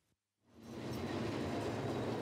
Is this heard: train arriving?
yes